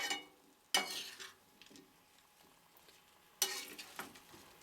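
Sweet potatoes, onion and garlic sizzle steadily in a pan, broken by two loud bursts of stirring scrapes and clatter, close and continuous with no talking.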